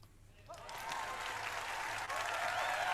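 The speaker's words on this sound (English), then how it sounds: "there are the applause" A canned applause effect plays on a mentalism podcast, starting abruptly after a brief quiet moment and then holding as a full, steady crowd of clapping and cheering to the end.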